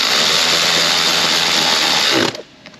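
A power tool whirs steadily up close while it removes a 10mm bolt from the airbox lid on a Toyota 2GR-FE 3.5L engine, then cuts off abruptly near the end.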